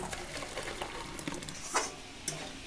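Mutton with fried potatoes sautéing in a pan, a steady sizzle and frying crackle with scattered stirring scrapes and a couple of sharper clinks, no talk.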